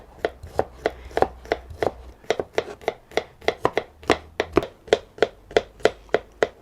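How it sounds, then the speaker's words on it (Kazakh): A knife chops carrots on a cutting board, about twenty crisp, close taps in a fairly even rhythm with short gaps between them. "Тураймыз, сабыз тураймыз."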